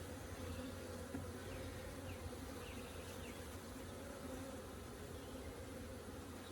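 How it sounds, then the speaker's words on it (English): Many honey bees from a caught swarm hum inside a hive box in a thick, continuous drone, a close and steady buzz with no talking. "Lots of bees in the box."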